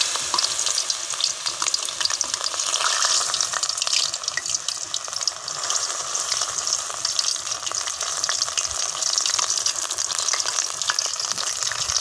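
Mushroom chops frying in oil in a village kitchen, a steady, bright, crackling sizzle that holds close and even throughout with no talk.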